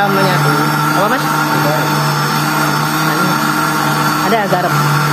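A blender runs steadily, whipping duck eggs with coarse salt into a white mix for swiftlet lure perfume. Its loud continuous whir fills the whole stretch, with voices talking over it.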